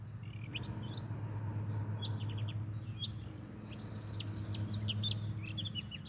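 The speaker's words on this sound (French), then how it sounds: "Je ne sais pas si vous entendez les oiseaux qui nous accompagnent" Birds chirp outdoors in quick repeated bursts of high trills, with a steady low hum beneath them and no talking.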